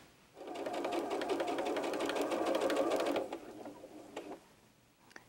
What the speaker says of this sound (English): So then I'm just going to take that in to the sewing machine.